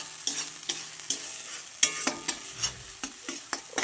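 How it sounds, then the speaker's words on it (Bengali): A paste of spinach and bottle gourd peel fries in a kadai while a spoon stirs it, giving a steady sizzle broken by regular scraping strokes roughly every half second, close up with no voices. "এরকম করে নাড়াতেই থাকবো, কড়াইতে যাতে লেগে না যায়।"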